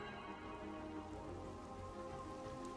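Steady rainfall in the video game Stranger of Paradise, a dense, even patter of rain on surfaces that holds at a constant, fairly quiet level throughout with no voices.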